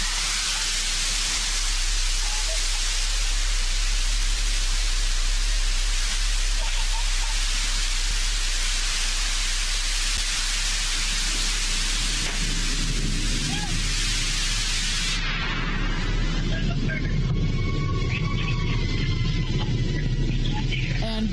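A New Shepard rocket booster relights its engine during descent, a loud, continuous broadband roar that shifts to a deeper rumbling thrust partway through.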